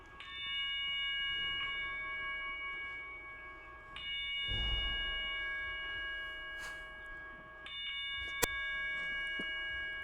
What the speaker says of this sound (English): Let's go ahead and knock out a 10-bell salute.